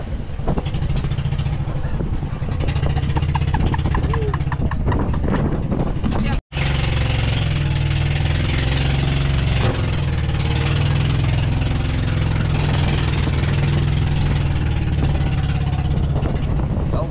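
A small outboard-powered bangka engine drones steadily and loudly throughout, a continuous mid-low motor hum with wind and water noise, while people shout and talk over it; a brief dropout breaks the sound partway.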